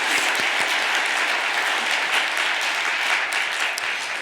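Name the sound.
applause for the mothers and fathers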